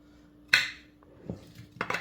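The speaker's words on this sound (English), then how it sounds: "I'm going to kind of mix all this stuff around." Ingredients being stirred in a dish for a viral TikTok recipe before it goes into the oven, with a sharp clink of utensil on dish, a few soft scraping stirs, then a short burst of clattering.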